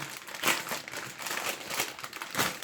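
Panini Euro 2020 sticker packets being torn open, their plastic wrappers crinkling and crackling up close in a continuous, uneven rustle with a few louder swells and no voices.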